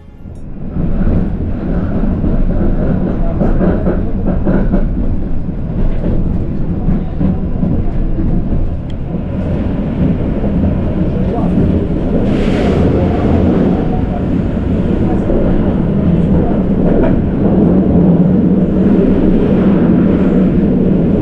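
A tram in Szczecin rolls across a regular railway line, producing a loud, continuous rumble with rattling wheel noise that holds steady throughout.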